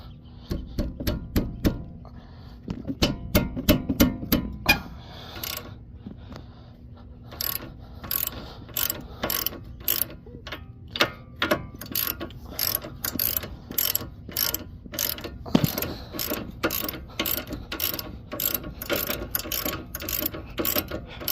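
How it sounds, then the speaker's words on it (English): Ratchet clicks in repeated rapid bursts while a 19mm bolt is loosened on the front strut of a 2013 Hyundai Elantra, close and fairly loud, with brief pauses between runs of clicking. "Now we're going to go ahead and hit this 19mm bolt right here."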